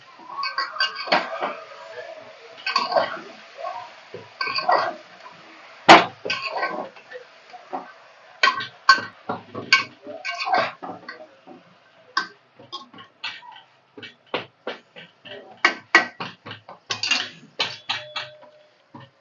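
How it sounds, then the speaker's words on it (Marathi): A spoon stirs chicken soup in a pot, making irregular metallic clinks and scrapes against the vessel, sometimes in quick runs and sometimes as single taps, with brief speech early on. "आणि याला चांगलं असं हलवून घ्यायचं"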